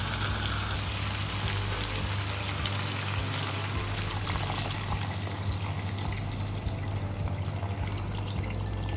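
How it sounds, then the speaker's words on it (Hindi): Water poured into a pot of raw papaya in a village-style kitchen, a steady unbroken gush and trickle of liquid running for the whole stretch, fairly loud and close, with a low constant hum underneath and no talking. "साथ ही इसमें मैं पानी डाल दूंगी।"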